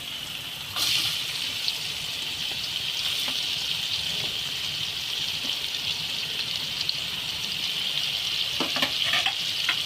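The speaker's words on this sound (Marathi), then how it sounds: "कांद्याला तेलामध्ये या पटरमध्ये परतून घ्यायचं" Onion fries in hot oil in a pan for butter paneer masala, giving a loud, steady close-up sizzle with a few faint clinks of stirring.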